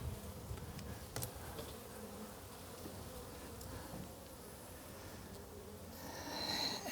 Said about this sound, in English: Here are some bees who are bringing in pollen.